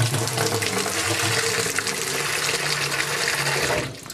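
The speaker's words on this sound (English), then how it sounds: "Put hot water in." Hot water pours in a steady, broad rush into a home brew fermenter, a full splashing gush that holds near and constant before cutting off abruptly at the end.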